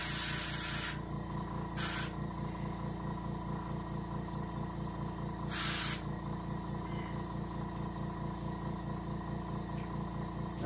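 An airbrush sprays paint onto a taxidermy hybrid striped bass, a soft steady hiss over a rhythmic compressor hum, broken by a few short, louder bursts of spray.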